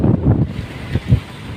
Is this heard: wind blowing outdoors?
yes